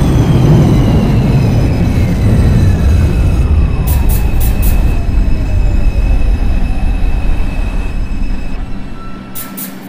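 A Manhattan-bound 2 subway train in the game Hmmsim 2 rumbles loudly along the track at Freeman St, wheels rattling with a descending whine and brief high chimes.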